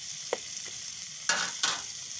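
Fish frying in a pan gives a quiet, steady hiss, broken by a few brief louder bursts of spitting oil.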